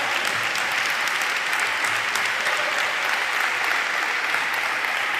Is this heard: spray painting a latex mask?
no